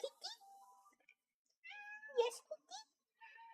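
A cat meows repeatedly at someone's feet right beside the microphone, several close, drawn-out, rising meows with short gaps between them, loud and clear.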